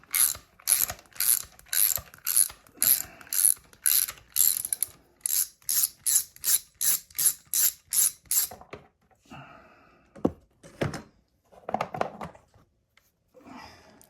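A ratchet wrench clicks off bolts from the timing cover of a 2000 Dodge Neon engine, with rapid rhythmic bursts of ratcheting followed by a few slower metallic clinks and taps.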